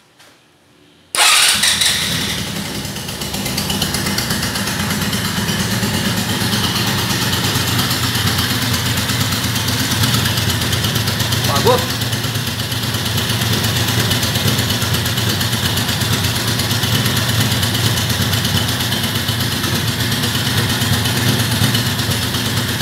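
A Riva 600 engine cranks and catches after a second of silence, then settles into a steady, loud idle that runs for the rest of the clip, with no talk over it.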